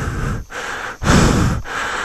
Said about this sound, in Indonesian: Saya ngos-ngosan.